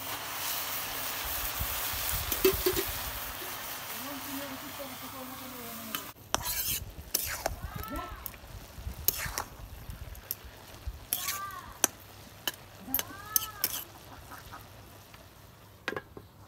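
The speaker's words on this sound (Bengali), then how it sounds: "দেখেন আমাদের পাতাকপি আজকে ভাজি হচ্ছে" Shredded cabbage stir-fries with dried fish in a pan, giving a soft sizzle under repeated scraping and clinking of a spatula against the metal, close up and intermittent.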